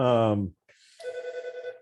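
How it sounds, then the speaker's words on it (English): A telephone rings during a county workgroup meeting held online, a steady electronic ring tone lasting about a second that follows a short burst of voice. "I never get phone calls and it's ringing like 4 times"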